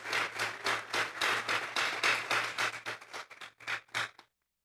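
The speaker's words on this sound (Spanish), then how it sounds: "Den un fuerte aplauso pues al Señor esta tarde" Applause from a church congregation during an afternoon sermon, a burst of fairly close clapping that thins into a few scattered claps and stops after about four seconds.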